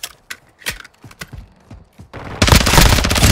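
Gunfire in Call of Duty: Modern Warfare 2 (2022) on the Shoot House map: scattered sharp individual shots at first, then a loud, dense sustained burst of automatic fire at the end.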